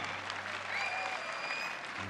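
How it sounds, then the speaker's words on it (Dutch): A live audience applauds a band of musicians from Leeuwarden at the season's opening concert in De Harmonie, a steady wash of clapping with faint tonal sounds threaded through it. "Maak ik een heel groot applaus voor deze fantastische band"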